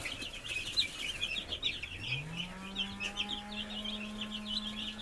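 Cornish Cross meat chicks at the end of their first week peep continuously in a dense, overlapping chorus, with a steady low mechanical hum rising in partway through and holding underneath.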